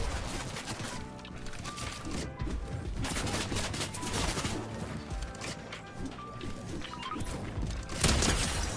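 Gunfire in a battle-royale style shooter amid building and combat sounds, with dense overlapping impacts and game effects at steady moderate loudness throughout.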